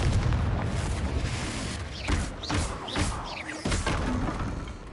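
Confringo blasting spell in Hogwarts Legacy: a run of heavy booming explosions over a dense, roaring game mix, with sharp bursts near the middle and end.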